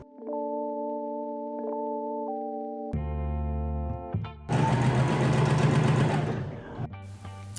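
A sewing machine stitching fabric shoulders together, with electronic tones and beeps at first, then a loud close mechanical whir of rapid stitching for a couple of seconds before it slows and stops.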